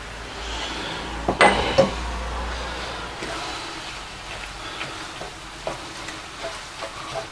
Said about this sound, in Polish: Smażymy dalej.